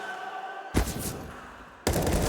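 Headshot gunfire in a professional Counter-Strike match on the Ancient map: two sudden loud, harsh bursts roughly a second apart over a low game ambience, the second continuing to the end.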